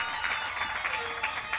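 Applause from the audience at a high school graduation ceremony, a steady crowd clapping at moderate distance with swelling accents throughout.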